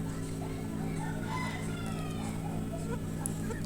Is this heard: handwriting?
no